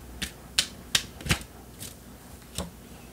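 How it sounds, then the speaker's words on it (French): A tarot card being drawn from a deck, heard as half a dozen close, crisp card snaps and flicks spaced irregularly over a few seconds, with no talk. "Je vais tirer une autre carte ici."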